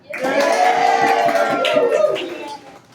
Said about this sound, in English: clap really loud, so try that